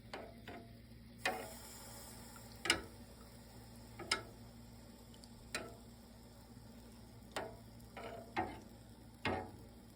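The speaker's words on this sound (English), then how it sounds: "Just gently stir, nice and slow." A spoon sweeps through milk in a pot as it heats for feta cheese, giving soft, evenly spaced scraping strokes about once a second over a faint steady hum, close and quiet.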